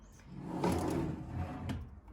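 A wardrobe drawer slides open or shut with a soft rolling rumble and a light knock near the end, close by and fairly quiet in a room.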